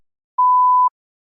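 A single steady electronic tone of about half a second sounds alone in silence, a clean test prompt beep for a TOEFL speaking practice section.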